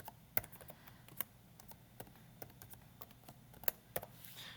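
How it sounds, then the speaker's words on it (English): Light computer keyboard typing as equations are entered, with scattered soft key clicks in an irregular rhythm, faint against a quiet room. "type in both of these equations"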